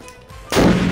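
A homemade carbide Ramadan cannon fires once: a sudden loud boom about halfway through, following a quiet lead-in, with the blast ringing on to the end.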